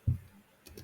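A single close computer mouse click, sharp and brief, followed by faint light ticks in a quiet room.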